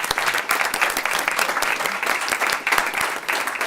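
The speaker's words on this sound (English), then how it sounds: "let's give her a round of applause" An audience at a school Board of Education meeting gives a round of applause, brisk clapping from a modest group of people with distinct individual hand claps, close and lively throughout.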